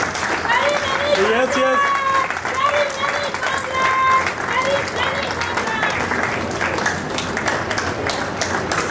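Audience applauding at a book launch event, a sustained wash of clapping from many hands across the whole stretch, with voices talking over it.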